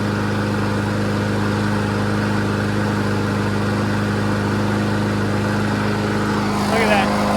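A lawn mower engine overfilled with oil runs at a steady, loud drone, close and continuous throughout, with a brief rise in noise near the end.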